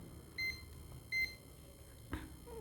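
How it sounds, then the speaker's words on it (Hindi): Multimeter in diode range testing a transistor on a split AC display board: two short, clear electronic beeps about a second apart, followed by a brief clatter, over a low background hum. "बेस पॉजिटिव से बीप करेगा। देखो पॉजिटिव से डायोड रेंज बताएगा मुझे करेक्ट"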